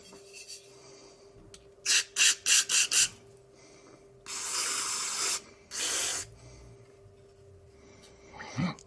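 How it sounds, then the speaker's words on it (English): Carb cleaner is sprayed through a dirty lawn mower carburetor's passages via a small hose. It comes as a quick run of four or five short hissing bursts, then two longer sprays, with small handling noises between. "I'm gonna just blow through all the passages with some kind of carb clean on a hose"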